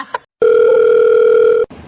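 A telephone sounds one loud, sustained electronic tone lasting a little over a second, cutting off abruptly, with brief bits of other sound just before and after.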